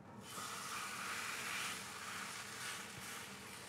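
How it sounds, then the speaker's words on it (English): Bavette steak for steak frites sizzling in a hot oiled pan, a continuous bright hiss that starts abruptly and stays fairly even and close. "let's get it cooking in the pan"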